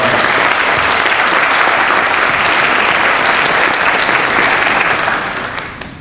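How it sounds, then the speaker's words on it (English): Applause from an audience at a Holocaust remembrance event in a library, a loud, sustained wash of many hands clapping that holds steady and then begins to thin out and fade near the end. "I appreciate if you give him a round of applause"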